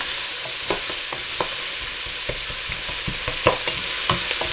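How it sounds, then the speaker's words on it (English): Vegetables sizzle steadily in a large regular pan for a plant-based chicken stir fry, with repeated scraping stirs of a utensil cutting through the constant frying hiss. "So just keep moving it around, and you don't want to saute it to the point where the vegetables are completely limp"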